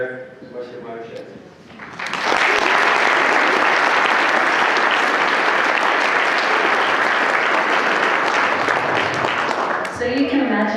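Audience applause at a fisheries and wildlife society awards ceremony bursts in after brief speech and holds loud and steady for about eight seconds, with a voice returning as it fades.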